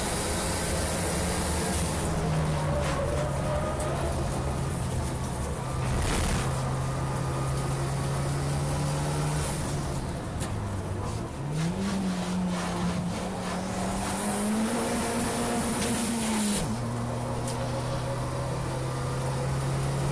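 A Nissan Micra Super Turbo time-attack race car lapping Cadwell Park, its engine droning steadily from on board, the pitch rising and falling through a corner as the turbo comes onto boost under braking, with no talking.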